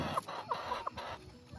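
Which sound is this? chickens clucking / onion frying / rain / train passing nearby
chickens clucking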